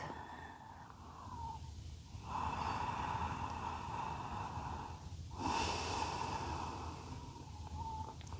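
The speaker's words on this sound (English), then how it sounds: "And you just take a couple belly breaths." Slow, deep belly breaths taken while standing folded forward on the hands in a hatha yoga class, a few drawn-out inhales and exhales close by with a steady airy hiss and a sharper breath about midway.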